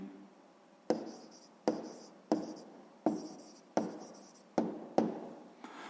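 Pen strokes scratch across paper as a math answer is written out by hand, with seven or eight short, crisp scribbles in a fairly steady rhythm, close and alone.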